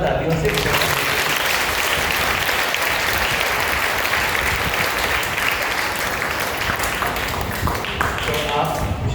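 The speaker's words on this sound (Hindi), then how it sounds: "जोरदार तालियों से" A church congregation at St. Sebastian's Church in Tahirpur, Delhi, claps loudly for the bishop, a dense and sustained burst of many hands that stays strong throughout without a break.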